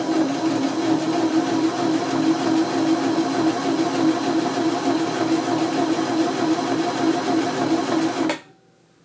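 A home sewing machine stitches a buttonhole at a steady, rapid mechanical whir, even and close, then stops abruptly just before the end, with no voices.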